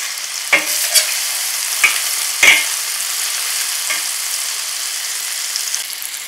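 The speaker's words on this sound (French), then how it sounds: "nous allons laisser cuire pendant environ 10 minutes et bien tourner" A spoon stirs a salt-and-peppered cooking mixture in a pan, several distinct scraping strokes over a steady soft sizzle, close and fairly quiet.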